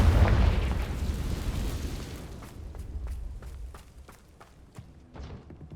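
Fiery Confringo spell blast in the video game Hogwarts Legacy, a loud rumbling boom that slowly fades, followed by scattered sharp clicks and small pops.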